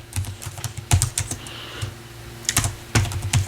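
Typing on a computer keyboard, close and clear: quick bursts of key clicks with short pauses between them, sounding alone with no talk.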